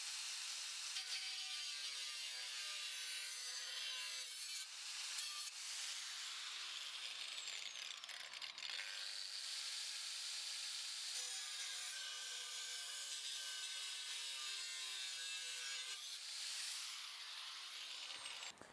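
A high-pitched power tool grinds and cuts through the edges of a metal brake shield on a BMW E60 M5, its whine dipping briefly under load a couple of times.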